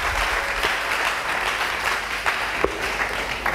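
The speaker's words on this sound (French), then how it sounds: "Acclamons très fort pour le roi." A crowd applauds the king, a dense, steady roar of clapping that holds evenly throughout with a few sharper individual claps poking through.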